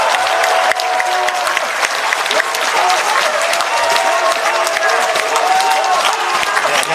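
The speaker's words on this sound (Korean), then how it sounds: "큰 박수로 모시겠습니다." Loud, dense applause from a crowd welcoming a speaker at a public rally held at the National Assembly, a continuous wash of clapping with faint voices mixed in, sustained at even volume throughout.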